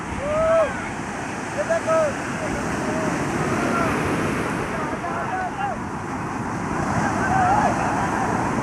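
Sea waves wash up on Puri beach in Odisha as a steady, loud broadband rush mixed with wind, with faint voices of people nearby in the background.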